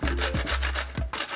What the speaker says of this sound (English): 1/4 of a cucumber into here. And I like to use the thicker grate for this.